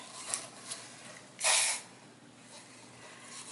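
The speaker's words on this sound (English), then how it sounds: "I'm just kind of putting in my WD-40 silicone spray in here" WD-40 silicone spray gives a single short, loud hissing burst, close by, into a cup for an acrylic paint pour, with faint handling noises before and after.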